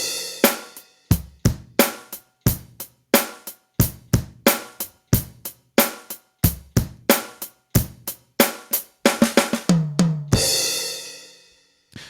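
A drum kit plays a steady groove of sharp hits for about ten seconds, then a quick fill rolls into a crash cymbal that rings out and fades.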